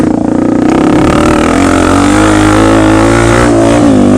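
A 2020 Honda CRF250F dirt bike engine revs loud and close, one sustained rising pull with a gruff exhaust tone climbing steadily in pitch, with no talk over it.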